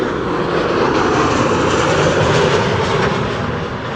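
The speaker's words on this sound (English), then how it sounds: "KLM 737-900 in the SkyTeam livery arriving from Barcelona" KLM Boeing 737-900 jet arriving at Amsterdam Schiphol Airport, a loud, steady broadband engine roar sustained throughout with no break, heard from nearby outdoors.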